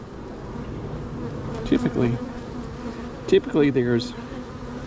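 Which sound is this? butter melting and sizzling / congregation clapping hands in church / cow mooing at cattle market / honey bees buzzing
honey bees buzzing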